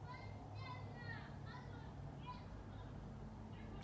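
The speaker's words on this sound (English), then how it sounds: "Hopefully you can hear the toddler in the background." A toddler plays and babbles in the background of a home brewday and beer tasting, producing faint, high chirpy vocal sounds over a steady low hum throughout.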